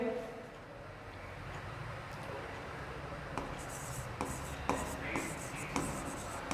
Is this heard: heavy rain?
no